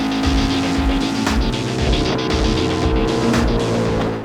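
TVS Apache RR310 ARRC race bike on a track, its engine roaring loud and close with repeated sharp bangs and pops on each upshift, revs rising and dropping in quick rhythmic pulses.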